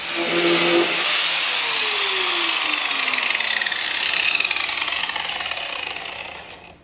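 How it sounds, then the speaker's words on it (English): A grinder with a used flap disc grinds plastic burrs off a 55-gallon drum, making a loud, continuous, harsh whine. The pitch drifts as the disc loads, then the sound slowly fades as the grinder winds down. "I'm just gonna use a used flapper disc on a grinder, and hopefully that'll take those off quite easy."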